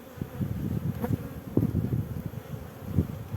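Honeybees buzzing at an opened hive nucleus, a dense continuous low drone with swelling bursts as bees fly close past, steady and fairly loud with no voices.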